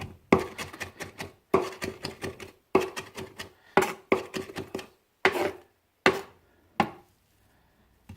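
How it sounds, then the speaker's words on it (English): A knife chopping spinach on a wooden board, a close, crisp series of rapid taps in bursts with brief pauses, slowing to a few single chops at the end. "if you're good at chopping, this won't take you very long"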